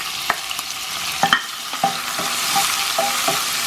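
Sliced onion frying in hot oil in a pan, a bright continuous sizzle up close with sharp clinks and scrapes of stirring scattered through; no voices.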